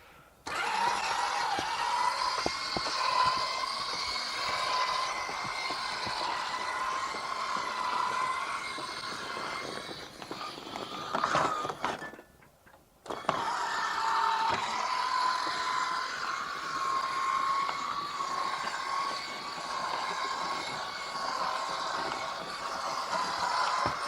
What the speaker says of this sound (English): usually it takes a fair amount of juice to just get the motor started and suck the awning back in